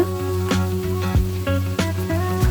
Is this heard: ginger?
yes